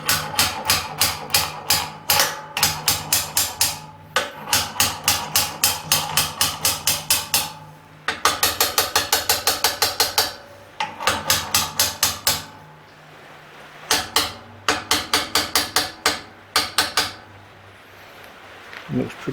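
Metal hammering at a workbench, bursts of rapid ringing blows in quick rhythmic runs separated by short pauses, loud and close, with a low steady hum underneath throughout.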